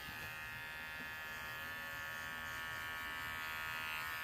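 A pet hair clipper on its non-turbo setting buzzes steadily while clipping a rabbit's fur, a continuous, faint electric hum with no pauses and no talking.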